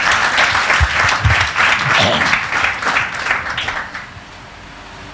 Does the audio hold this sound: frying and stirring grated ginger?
no